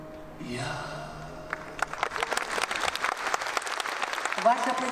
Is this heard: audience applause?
yes